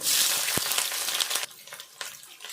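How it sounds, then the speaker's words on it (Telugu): Dried red chillies and garlic crackle in hot oil, a busy spattering sizzle with scattered sharp pops that drops a little partway through as onions go into the pan. "ఇవన్నీ ఇట్లా గోలినాక ఉల్లిపాయ వేసుకుందాము."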